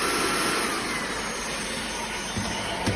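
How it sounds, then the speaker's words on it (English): A drepre cordless vacuum cleaner (580W) runs steadily on its lowest suction setting, a continuous close whirring motor hum with a thin high whine, alone without talk for the whole stretch. "This is just the lowest suction setting, but you can increase it up to medium and then high."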